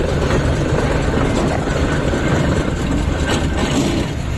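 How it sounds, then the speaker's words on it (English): Steam showman's engine at a transport show at Glamis Castle, driving a generator to power fairground rides, gives a steady loud rumbling chug throughout, with outdoor crowd noise mixed in. "Now here comes the showman, lovely showman's engine."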